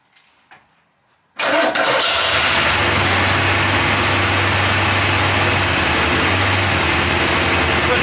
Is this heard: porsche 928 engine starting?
yes